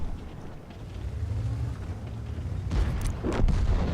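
Tank cannon fire from the World of Tanks video game on the Sand River map: low rumbling booms build up, followed by a couple of sharper, louder blasts near the end, with no speech.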